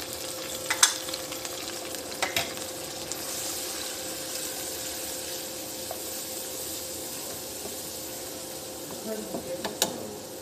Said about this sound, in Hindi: अब हमें इन सब की भुनाई करनी है अच्छे तरीके से